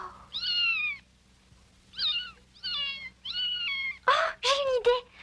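Small kitten meowing repeatedly, high thin cries in a series of separate calls, followed by a few louder, harsher wails near the end over a quiet background hum.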